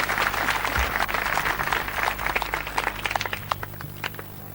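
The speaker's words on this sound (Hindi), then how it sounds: "आपने ताली बजाई है" An audience at a gathering claps steadily, a dense, continuous patter of many hands heard from within the crowd, gradually thinning toward the end.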